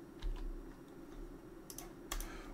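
Keys tapped on a computer keyboard while entering text in ALLPLAN, a handful of faint, close clicks in two short groups over a low steady room hum.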